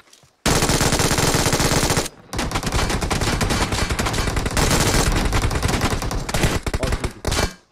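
Loud, dense automatic fire in a Valorant match, a long sustained burst after a short quiet start, then a brief gap and more continuous rattling shots that break into choppier bursts near the end, with no talk over it.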